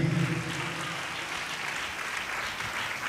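A church congregation claps loudly together in praise, a steady dense patter of many hands, with a low voice or hum briefly audible at the start.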